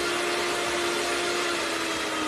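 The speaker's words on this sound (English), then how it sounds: "Now I'm gonna be noisy and mix this up right fast." Electric mixer beating yellow cake batter in a home kitchen, a steady loud whir with a constant motor hum that holds throughout, no talking over it.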